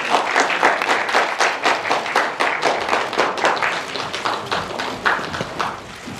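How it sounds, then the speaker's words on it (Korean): Enthusiastic audience applause fills a 2019 Ministry of Environment climate change ambassador appointment ceremony, with dense, steady clapping from a crowd that holds strong for several seconds. "큰 박수 부탁드리겠습니다."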